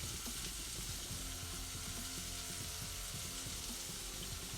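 Fifteen scallops searing in a pan on a narrowboat, a steady close crackling sizzle that holds constant throughout with no talk.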